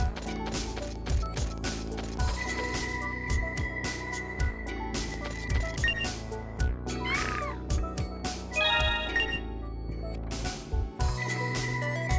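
Cat meows sound repeatedly in the video game 7th Dragon III Code VFD, short mewing calls over a steady musical background with hums and tones, fairly loud and spread throughout.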